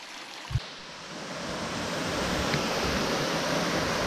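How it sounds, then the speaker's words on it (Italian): Steady broadband rushing of a waterfall in the Friuli mountains near Palcoda, close and continuous, building slightly after a brief knock near the start. "siamo arrivati alla cascata"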